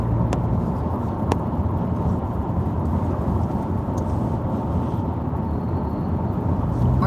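Interior of a Subaru Impreza while driving, a steady low rumble of road and engine noise with a couple of faint clicks, no talk.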